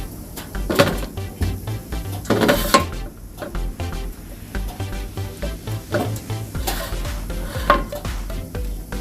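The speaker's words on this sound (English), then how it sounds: "I'm going to spread my batter over the butter." A utensil scrapes and clinks against a pan as peach cobbler batter is spread over butter, with irregular close metallic taps and scrapes throughout.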